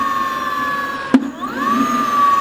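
A Fiido Q1S electric bike motor whines steadily with the throttle held, its pitch dipping after a sharp click and then climbing back to an even hum close by.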